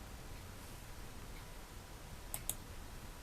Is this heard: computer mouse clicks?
yes